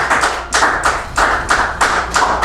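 A church congregation claps along in rhythmic bursts at a worship service, about six evenly spaced rounds of loud, close group clapping with no voices over it.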